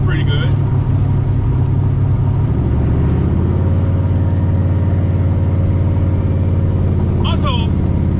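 A turbocharged Ford Mustang engine holds a steady low drone from inside the car, rising in pitch partway through as the throttle opens wide, with brief chirps near the start and end; no one speaks.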